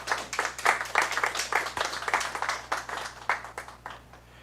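Audience applause after a plenary conference presentation at a regional internet governance forum, with a moderate burst of clapping whose individual claps pulse throughout, fairly faint and fading toward the end.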